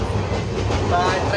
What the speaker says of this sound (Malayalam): അപ്പോൾ നമ്മൾ ട്രെയിനിലാണ്